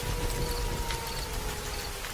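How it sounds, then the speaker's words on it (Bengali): Continuous hiss of steady rain falling, even and unbroken throughout, with faint high tones far in the background. "পরেশ মাস্টার চুপচাপ বৃষ্টির দিকে তাকিয়ে রইলেন"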